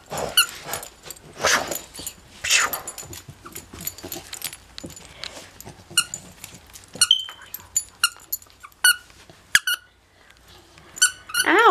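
A young female puppy growls and lets out high squeaky whines while playfully biting during a fetch game, the close, bursty squeaks and snarls coming in quick irregular clusters with near silence between them.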